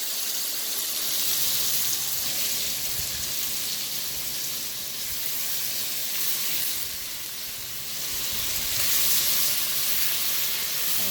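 Chicken pieces searing in a pan for Jamaican curry chicken, a steady, dense bright sizzle and hiss that holds close and loud throughout with gentle swells, no talking.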